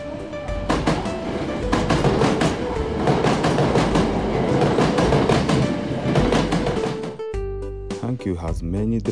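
A maroon Hankyu train rumbles past close by in Kobe, Japan, wheels clattering in quick rhythmic bursts, then the noise drops away and a lower horn-like tone takes over.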